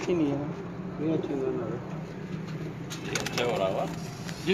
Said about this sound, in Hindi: ये जो अच्छे उड़े ये वाले कबूतर हुए ये बाजियों में उड़े थे